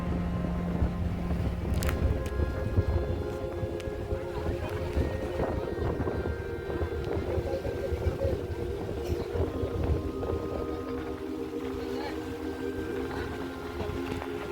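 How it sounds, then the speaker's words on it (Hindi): Sea waves washing against the rocky shore at Dhanushkodi near Ram Setu, a steady continuous roar mixed with wind buffeting the microphone, loud and unbroken throughout with no talk. "लहरों के द्वारा राम नाम की धुन"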